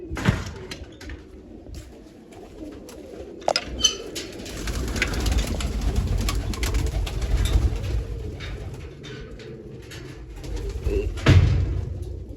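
Pigeons coo softly and repeatedly nearby, with occasional wing flaps and faint knocks in the background.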